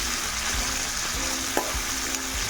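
Tomatoes fry for semiya upma, giving a steady, close sizzle in a pan with a few soft stirring scrapes and no talk.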